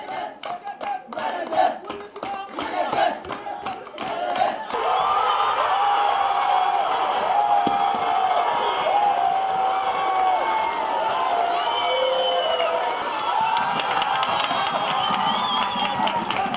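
Football fans in the stands of the Olympic stadium during a national championship match, a loud, sustained crowd roar with clapping and cheering that starts as rhythmic claps, then swells into continuous noise.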